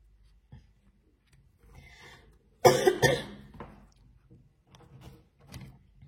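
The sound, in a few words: cough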